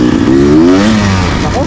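Beta 300R motorcycle engine with a hydraulic clutch revving up in a rising then falling sweep, loud and close, with the engine note dominant over background noise.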